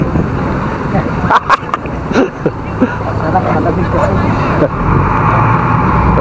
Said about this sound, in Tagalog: Ito mga kalabarkada yung sasakyan natin, Ruru.